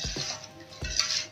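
A spoon scrapes and knocks around a cooking pot of simmering kadhi, a few low clunks and soft metallic scrapes close up with a gentle bubbling hiss.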